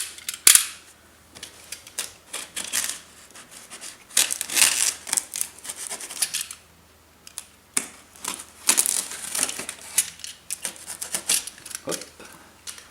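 A DHL parcel of large Polish and Italian firecrackers being opened by hand: close, irregular bursts of crackling, crinkling and tearing packaging with brief pauses between handling sounds.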